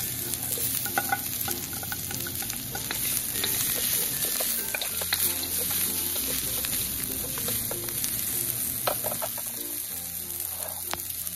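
Chopped ginger and onion fry in a pan of hot oil for beef pares, sending up a loud, continuous sizzle with occasional stirring scrapes, close and without talk.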